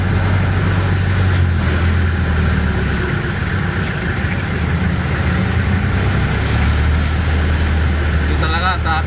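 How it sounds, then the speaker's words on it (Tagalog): Road traffic with cars and buses idling and rumbling steadily from inside a vehicle in heavy congestion, loud and continuous, with people talking over it. "Ito talaga traffic."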